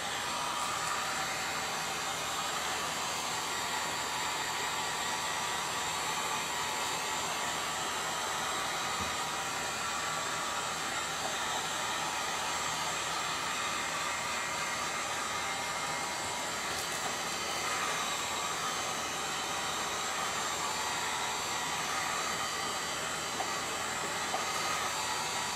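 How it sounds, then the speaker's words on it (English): Heavily overdriven electric guitar through a ToadWorks John Bull British overdrive pedal playing loud sustained chords and riffs, gritty and distorted, with a burst of fast picked notes near the end; no voices. "hold on just a minute while I get this heat gun set up"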